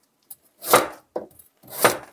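A knife cuts carrot into pieces on a cutting board in a home kitchen, with three distinct chops and a lighter tap, each a crisp, close thud and scrape with silence between them and no speech.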